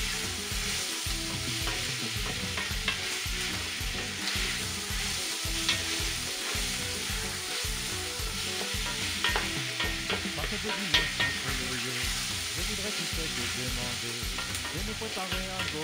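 Onions fry in a pot and are stirred steadily, giving a dense continuous sizzle with rhythmic scraping strokes against the bottom, with no voices.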